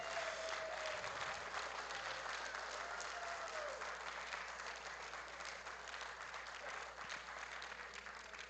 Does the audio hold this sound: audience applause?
yes